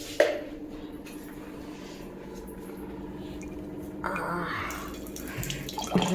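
Water poured into a container of hot water and stirred in at home, a steady close splashing pour that grows louder and brighter toward the end, with faint background noise.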